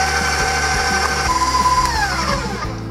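An electric mixer whirs steadily through cream cheese, sugar, eggs and vanilla, a continuous motor drone with a shifting pitch as the beaters work the batter, heard up close with no talk.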